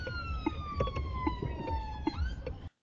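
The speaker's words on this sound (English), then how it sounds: "this ambulance that you can just see there on the right hand side coming through on blue lights" An ambulance on blue lights passes through traffic with its siren wailing in a steady, slowly falling tone, heard moderately from inside a driving car over road rumble.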